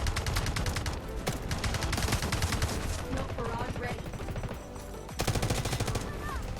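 Loud, sustained gunfire from the video game Delta Force, rattling in rapid automatic bursts with a brief gap near the end before firing resumes, with no clear speech.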